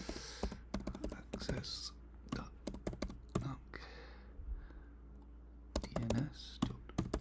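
Keyboard typing while setting up a client certificate in Postman: bursts of quick close keystroke clicks with pauses between them, mixed with quiet, low speech.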